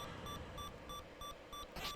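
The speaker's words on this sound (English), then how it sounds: "Heart alarm's going again." The low-health heart alarm in The Legend of Zelda for the NES beeps in a fast, even, repeating rhythm, fairly quiet over faint background noise.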